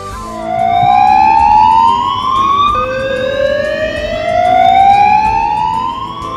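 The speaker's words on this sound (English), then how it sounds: "In case of a security incident, the security alarm will be sounded." Security alarm siren sounding across a compound in the Zamzama area: a loud, wailing tone sweeps upward twice in succession and carries on steadily with no voices.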